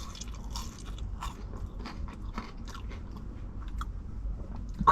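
Close, crisp crunching and chewing of Nando's peri peri chips, with sharp bite snaps followed by repeated moist chewing in an irregular rhythm.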